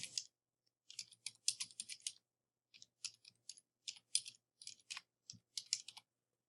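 Rapid bursts of keystrokes on a computer keyboard while an email address is entered as a username, in short clustered runs with brief pauses, close and fairly quiet.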